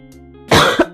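A single close, loud cough bursts out after a quiet moment, followed by a brief second rasp like a throat clearing.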